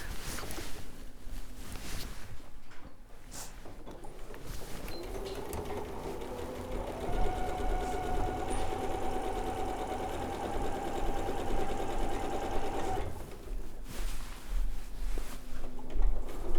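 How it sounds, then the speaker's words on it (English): A sewing machine stitches around the top edge of a gingham tote bag, running in one steady whirring burst of several seconds between quieter handling noises. "I'm going to sew all the way around this top edge"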